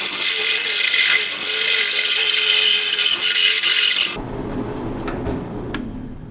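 A drill press bores a bolt hole through a clamped workpiece in a shop, a steady loud grinding whir for about four seconds before the bit breaks through and the sound drops to a lower rattling spin-down.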